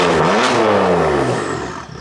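A BMW M4 engine roars at high revs right after a cold start, then the pitch drops and settles toward a lower idle, loud and close.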